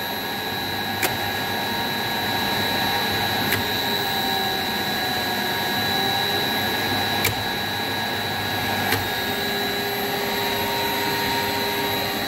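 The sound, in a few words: electric motor ramping down under VFD control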